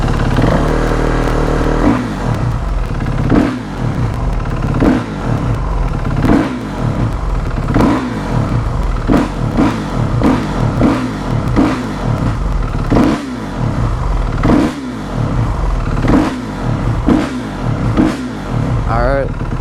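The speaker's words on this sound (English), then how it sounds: "that quad is really loud" A loud quad bike engine runs off choke at close range, giving a steady, rough idle with a rhythmic pulsing throb that carries through the whole clip.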